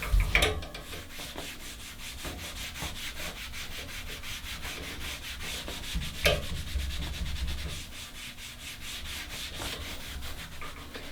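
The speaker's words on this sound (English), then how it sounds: "And then we'll rub it right into the leather." A cloth rubs strop dressing into a leather strop for a straight razor, making soft, close, continuous scrubbing with repeated back-and-forth strokes and a few sharper scuffs.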